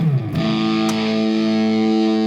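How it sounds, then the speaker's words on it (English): Heavy-mode fuzz pedal on an electric guitar: a single sustained, thickly clipped chord with a fizzy, hissy top end, square-wave harshness ringing out steadily after a brief picked attack, loud and alone. "Some fuzzes do the fizzy top end thing, but that feels like a really hard square wave clipping thing."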